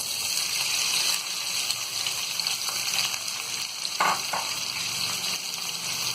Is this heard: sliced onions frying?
yes